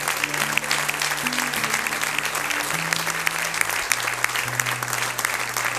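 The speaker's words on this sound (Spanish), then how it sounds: "Un aplauso a él, mi hermano." A church congregation in Santiago, Chile applauds a brother with dense, steady clapping for nearly six seconds, while sustained musical tones hold underneath the whole time.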